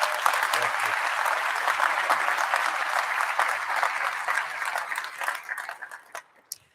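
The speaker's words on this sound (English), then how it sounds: "Everybody please give a round of applause for Mayor Wu." Audience applause for the mayor at a fire academy recruit graduation, a sustained dense round of clapping that thins out and ends with a few last claps.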